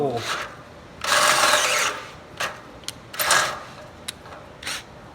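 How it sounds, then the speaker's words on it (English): A unibit step drill bit bores through material during a flatbed truck rebuild, heard as short, sharp bursts of whirring drilling separated by pauses and small clicks. "This is called a unibit."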